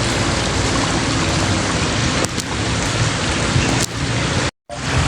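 A steady, dense rush of flowing river water fills the clip, close and continuous, with a brief dropout near the end.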